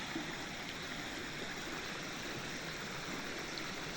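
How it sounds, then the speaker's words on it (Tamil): Steady rushing spring water cascades continuously, a dense even splashing like a small waterfall, close by and fairly soft. "அருவி மாதிரி மேலே ஊற்று பொங்கி கீழே வருது"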